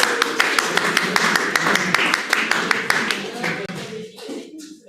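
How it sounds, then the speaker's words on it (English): A congregation at a church vesper service claps steadily for two people, a close, sharp crowd of hand claps that thins out and stops near the end. "give them a clap"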